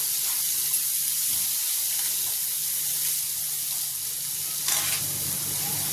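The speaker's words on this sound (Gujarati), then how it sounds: "હલાવી લઈશું બરાબર।" Finely chopped green chillies with crushed ginger and garlic sizzle steadily in hot oil in a pan while being stirred, a dense continuous hiss with brief scraping bursts, close and unaccompanied by talk.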